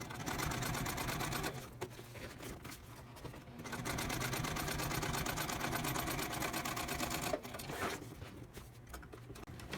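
A sewing machine runs at its original stitch length across both sections of a tote bag, a steady close whirring with a couple of brief pauses and restarts.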